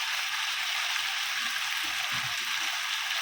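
Cumin and turmeric fry in hot oil with a steady, even sizzling hiss, close and continuous, with a few soft low bumps from the pan.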